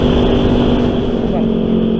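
A Yamaha XMAX scooter engine revs hard and steadily at close range, a loud continuous motor drone with a dense, buzzing tone throughout.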